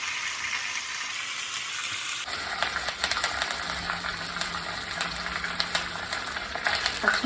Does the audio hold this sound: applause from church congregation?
no